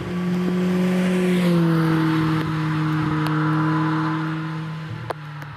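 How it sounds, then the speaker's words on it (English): A Brabham BT38 race car accelerates up a hillclimb course at Doune, Scotland. Its engine note holds a strong, steady tone that shifts gear once and then fades slightly as the car pulls away, with no talk. "Got Albiston's immaculate BT38 Brabham."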